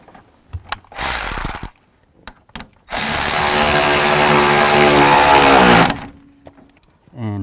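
A ratchet snugs bolts on the hood release handle of a 2000-2006 Chevy Tahoe, loud dense bursts of rapid clicking, one short and one sustained for about three seconds, separated by quieter knocks.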